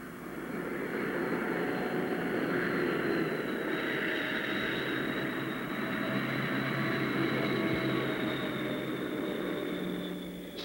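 Flying boat aircraft engines run in a steady, continuous drone with a sustained mechanical hum that holds level throughout, moderately loud and without speech.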